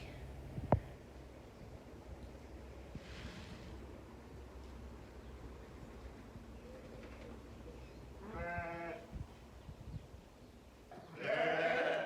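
A couple of sheep bleat at a distance, faint wavering calls over a low outdoor rumble, with a louder bleat at the end.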